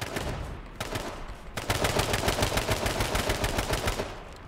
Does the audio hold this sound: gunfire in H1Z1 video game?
yes